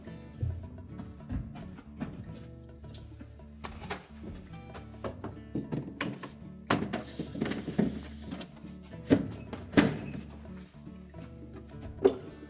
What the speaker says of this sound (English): And now put the shelf back in.